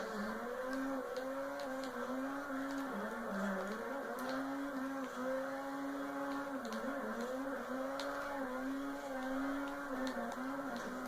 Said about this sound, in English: I'm going to show you what feathering it looks like around a big corner like this.